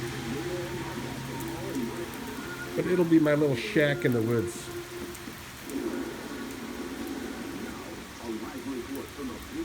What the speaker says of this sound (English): I haven't seen it rain this hard in months.